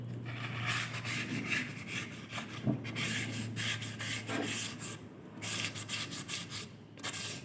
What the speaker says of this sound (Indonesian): Tromol ini dengan menggunakan kampas, kita amplas dulu.